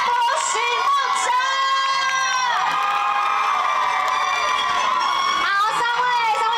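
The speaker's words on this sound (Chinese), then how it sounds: "掌声欢迎主持群出场，有请孙贤志、王仁博、许梦辰。" A wedding-banquet crowd shouts and cheers loudly as the hosts come in, with high excited voices and whoops layered over one another and talk mixed in.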